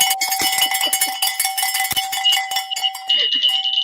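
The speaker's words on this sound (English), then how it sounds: "Ring the bell." A small handheld bell is shaken hard, giving a rapid, bright, continuous clanging with a metallic ring, loud and close, with cheering voices underneath.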